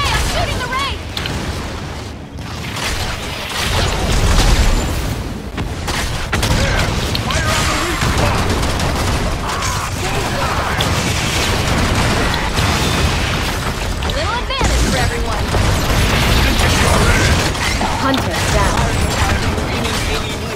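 Ray weapon and grenade launcher fire in the Evolve Stage 2 shooter, heard as a dense, continuous barrage of booms, bursts and mechanical clatter for about twenty seconds, with a player's voice talking over the battle.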